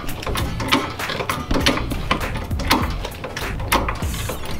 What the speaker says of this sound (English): Now we're gonna raise the car so we can remove the serpentine belt